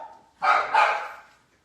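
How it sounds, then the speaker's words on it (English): A pet puppy named Timbit lets out two quick, high, close barks indoors after a faint lead-in, and the sound then fades to quiet. "Not sure why he's barking."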